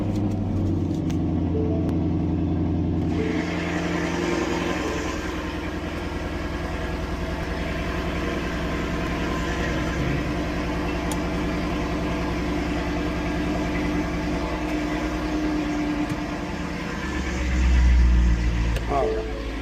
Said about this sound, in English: Turn this vehicle on.